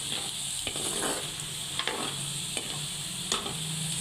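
Chicken frying and sizzling in a pan for chicken pickle, a steady hiss close by with several sharp spatula strikes and scrapes spaced across the stretch.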